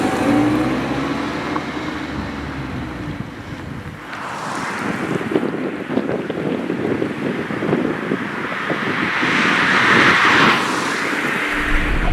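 A 2024 Mazda MX-5 RF GT RS roadster cruising on open roads, with steady engine and tyre drone mixed with strong wind rush that swells midway and stays loud and continuous.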